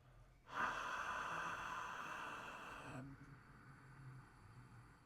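Breathing through a partly closed mouth, with a rushing, hissing sound at the base of the throat: one sustained breath of about two and a half seconds, close and steady, then cut off abruptly into quiet.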